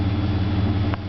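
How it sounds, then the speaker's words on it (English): A 2003 Chevy S10 with a 4.3 V6 and Flowmaster 40 series dual exhaust idles low and steady, a deep continuous burble heard close with no talking. "It definitely produces a very nice sound at an idle."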